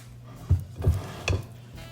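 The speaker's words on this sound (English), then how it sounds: "We'll give it a quick stir." A zucchini soufflé mixture stirred in a bowl: three quick scraping strokes of a utensil, close and moderately loud, evenly spaced over a soft background.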